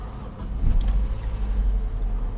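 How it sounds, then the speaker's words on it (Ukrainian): An Opel Astra car engine running at idle, a steady low rumble close by and fairly loud, with a slight surge early on suggesting the engine catching after starting. "Завівся наш двигунчик."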